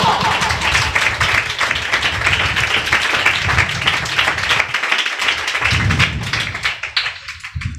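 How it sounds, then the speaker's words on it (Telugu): A church congregation at a Sunday service sermon claps hands in dense, continuous applause that fills the room, fading unevenly in the final seconds. "చప్పట్లు కొట్టా."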